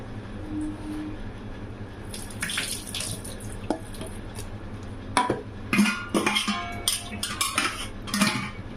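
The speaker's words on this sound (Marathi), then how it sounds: "डाळ आपण स्वच्छ पाण्याने धुवून घेऊयात." Running water splashes steadily with clinks of a metal pot and scraping, as lentils are rinsed and stirred by hand near a sink.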